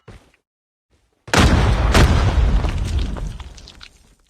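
A grenade blows up in Call of Duty Mobile, a single loud close boom that hits suddenly after near silence and then rumbles and fades over about three seconds.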